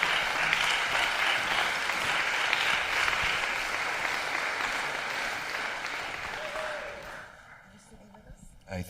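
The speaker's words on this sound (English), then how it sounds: "Please, a round of applause for these folks again" Audience applause at a town hall and carnival gathering, a dense steady wash of many hands clapping that fades near the end, with cheers mixed in.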